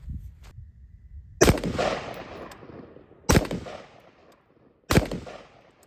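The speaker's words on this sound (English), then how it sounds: "We're going to start by firing 3 shots to confirm 0 on camera" A rifle topped with a Monstrum Archangel 1-10 optic fires three sharp, evenly spaced shots, each a loud crack followed by a fading echo tail, with quiet gaps between.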